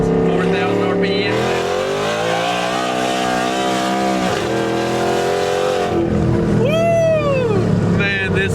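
A supercharged, lifted 2015 Ford F150 pulls hard in first gear, its engine note climbing steadily, dipping briefly, then rising again with a loud, close roar as people inside talk and cheer over it.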